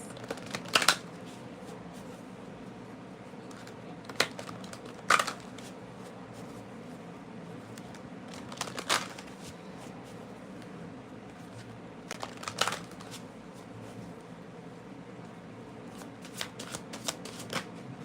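A deck of tarot cards is shuffled in several short riffling bursts spread over a quiet room-tone background. The bursts are soft and close, with long pauses between them.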